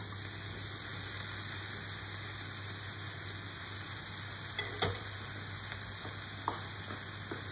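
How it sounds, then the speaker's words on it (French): Mushrooms fry in a pan for a mushroom and chicken liver pie, giving a soft, steady sizzle over a constant hum, with a few light scrapes and clicks from stirring toward the end. "Au bout des 3-4 minutes, je mets les champignons."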